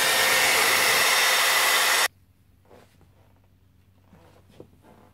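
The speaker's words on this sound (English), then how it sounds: "I'm going to spot dry it so I can put another coat." Hair dryer blasting a loud, steady broadband whoosh for about two seconds while spot-drying paint on a snowman craft, then cutting off abruptly into quiet room tone with faint small handling noises.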